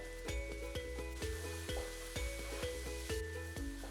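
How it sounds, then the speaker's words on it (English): Chopped onion and potato fry in a pan over medium heat while cooking Bengali bhuna khichuri, with a steady close sizzle broken by repeated rhythmic scrapes and stirs of a utensil against the pan. No talking. "I have to cook the onion over medium heat until it's softened"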